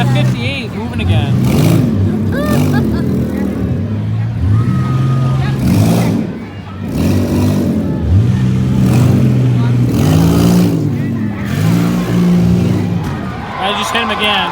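Minivans battle in a fairground demolition derby, engines revving and surging in repeated waves with tire noise and impacts, loud and close, while people talk over the action throughout.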